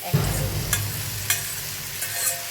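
Maggi noodles fry in a pan with onion, a few drops of vinegar and a little soy sauce, giving a steady low sizzle broken by a handful of sharp scraping stirs, close and alone.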